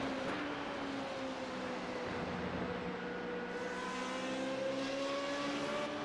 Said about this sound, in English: he's bouncing off the rev limiter